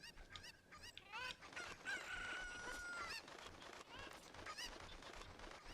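A chicken crows in Zelda: Ocarina of Time, a bright repeated cock-a-doodle call rising over busy game music and ambient effects, moderately close, with no talking.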